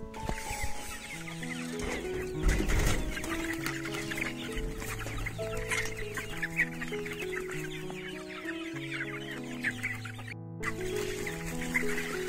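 Local chickens cluck and chatter busily while eating homemade feed, a close, continuous flock of overlapping clucks with a brief louder flurry early on and a soft background tone.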